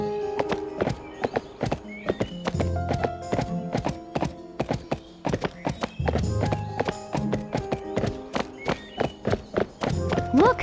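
Barbie Horse Adventures video game horse clip-clops along at a steady rhythmic gait while ridden, sharp hoof thuds near and clear, with a whinny and a game soundtrack underneath and a voice speaking briefly.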